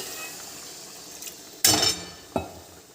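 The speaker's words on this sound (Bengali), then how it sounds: "মশলা দিয়ে তেল ছেড়ে দিয়েছে এবার জল দিয়ে দিচ্ছি" Water poured into a pan of paneer egg curry masala that has released its oil, a short splashing pour with a second brief splash after it, moderately loud with no talk.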